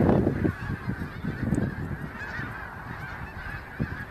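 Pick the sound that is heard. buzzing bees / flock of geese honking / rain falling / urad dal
flock of geese honking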